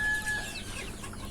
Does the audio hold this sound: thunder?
no